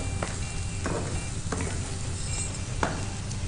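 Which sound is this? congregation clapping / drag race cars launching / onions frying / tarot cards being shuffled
onions frying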